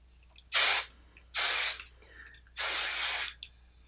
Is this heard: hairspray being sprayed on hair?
yes